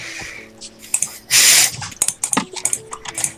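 Rapid, irregular clicking of a computer keyboard and mouse during a Minecraft survival game, close and loud, in quick bursts with one longer noisy burst partway through.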